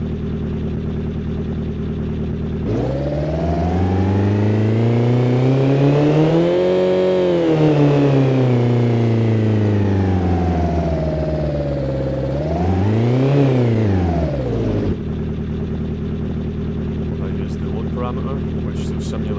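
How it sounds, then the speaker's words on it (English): Simulated car engine built from steady-RPM recordings cross-faded by RPM and load, with distortion at high speed, revving up and down in two loud sweeping rises over a steady idle, alone without talk. "The main vehicle engine sound has been taken from steady RPM values"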